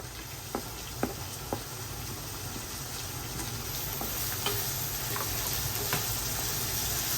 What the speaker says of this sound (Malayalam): ഒന്ന് വഴറ്റി കൊടുക്കുക